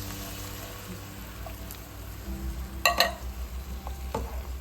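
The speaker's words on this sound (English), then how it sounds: "I'm going to go ahead and add my corn now with the juices" Corn and its juices go into brown gravy in a pan for a tater tot shepherd's pie, a soft bubbling sizzle with a brief wet stir and clink partway through, close and fairly quiet.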